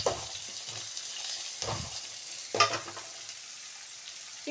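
A single onion fries in a pan for vangi bath, with a low continuous sizzle and three or four distinct scraping stirs, one louder clatter midway.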